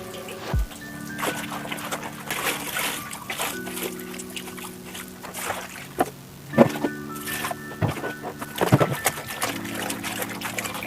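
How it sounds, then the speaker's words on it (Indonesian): Secondhand jeans rinsed by hand in water, turned inside out: continuous sloshing, splashing and trickling with occasional sharper splashes, close up, over a steady background hum. "Sekarang kita balik, jadi bilas juga di bagian dalamnya."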